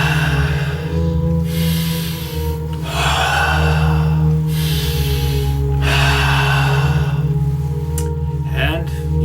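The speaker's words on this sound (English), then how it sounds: "Take a few deep breaths." Deep, slow breaths come in long drawn inhales and exhales, repeated several times close to the microphone over a steady low hum.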